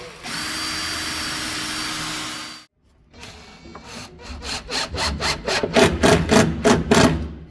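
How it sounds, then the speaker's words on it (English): A power drill whirs steadily into timber, boring a pilot hole for herringbone strutting, stops, then a rapid series of rhythmic grinding bursts as the bit bores through, no voices. "We'll pre-drill."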